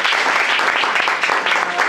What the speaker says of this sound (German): Ein Applaus erstmal dafür.